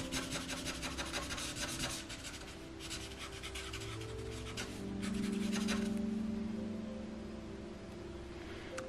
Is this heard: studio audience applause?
no